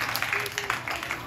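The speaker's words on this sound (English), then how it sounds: "round of applause for the worship team" A church congregation gives a round of applause for the morning worship team. The clapping is dense and even across the brief moment, with a faint voice underneath.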